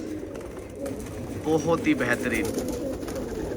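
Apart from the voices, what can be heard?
pigeons cooing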